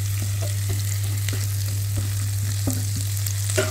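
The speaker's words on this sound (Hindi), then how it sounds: "अब प्याज को गोल्डन ब्राउन होने तक अच्छे से पकाऊंगी।" Chopped onions frying in a pan with ginger and green chillies, a steady close sizzle with faint stirring clicks, no talking.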